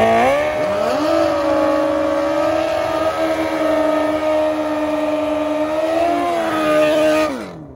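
Drag racing motorcycles, a Suzuki GSXR and a wheelie-bar Hayabusa, launching at the final-four round: a loud sustained high-revving engine wail with gear-change pitch dips, close and steady before cutting off at the end.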